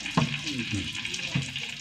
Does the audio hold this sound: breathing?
no